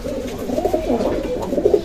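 Pigeons coo outdoors as a racing pigeon is let out, a soft, close, throaty cooing that rolls on without pause.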